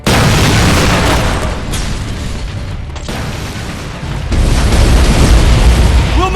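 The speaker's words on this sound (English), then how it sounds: "Reese, I think we're far enough. Do it! Detonating in 3, 2," A detonation in the Terminator: Resistance video game on PS5 sets off a loud, sustained roar of blast and rumble that fills the whole stretch and swells again near the end, with no voices.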